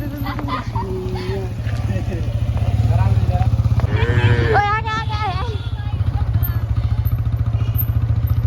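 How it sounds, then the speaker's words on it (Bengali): A motorbike ridden toward a river ghat rumbles steadily nearby, its engine drone holding throughout with a brief rise in the middle, while people talk over it. "আর ঋতিকা আসছে বাইক চালিয়ে"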